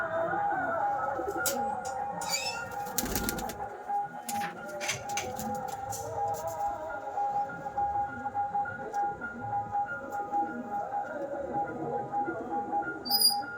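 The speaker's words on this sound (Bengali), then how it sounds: "এটা নর পায়রা।" A male pigeon cooing among a loft of pigeons, soft repeated low coos over a steady ambient hum, with occasional wing flutters and scratchy movement nearby.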